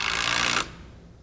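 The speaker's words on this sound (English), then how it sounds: "And I'll fix in 3 screws on each end." A power driver sinks a screw into timber while a backyard swing set is built: one loud, close whirring burst lasting about half a second, then stopping abruptly.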